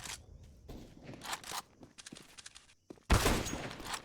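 Gunfire in a competitive shooter match comes as sharp bursts of shots mixed with footstep-like crunches, ending in a loud close volley.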